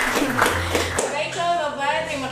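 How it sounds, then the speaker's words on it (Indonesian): A small group claps in a scattered burst during a podcast-style gathering, fairly close and brief, with people talking over the applause. "Oke, tepuk tangannya dong teman-teman."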